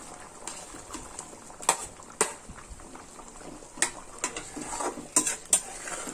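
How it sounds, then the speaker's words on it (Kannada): Fried paneer stirred into a simmering masala gravy in a pot, with soft bubbling under scattered close clinks and scrapes of a spoon against metal, no talking. "ಇವಾಗ ಪನ್ನೀರ್ಗಳನ್ನ ಹಾಕ್ಕೊಳ್ಳೋಣ"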